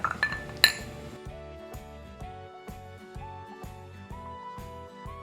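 Glasses of gin and tonic clink together in a toast, a bright sharp chime near the start followed by ringing tones, the gin being Korean-made, with no talking.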